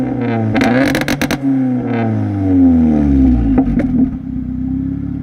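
A heavily modified car engine with an aftermarket Mac and Extreme Performance exhaust and downpipe blips and revs loudly close by, sharp throttle stabs rising and falling, then settling into a steady idle drone.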